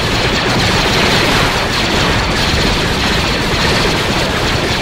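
Dense, continuous barrage of loud booming blasts, rapid overlapping cannon fire with no pauses, from a heavy space battle in the Star Wars game mod Imperial Civil War.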